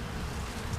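Bees fly around a hive box with a queen cell, a steady close buzzing drone that stays even throughout.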